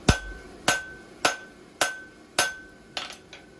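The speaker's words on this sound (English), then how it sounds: "I'm hitting the hot side with my hammer" A hammer strikes hot steel while a horseshoe template is being forged, six sharp ringing blows at an even pace, each one decaying quickly, close and alone.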